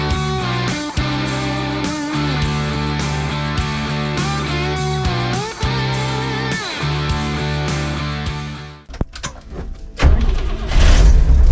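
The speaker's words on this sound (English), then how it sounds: "Truck's running" A 1973 Toyota Land Cruiser FJ55 project truck's engine starts and runs with a loud, low rumble near the end, after a long stretch of music.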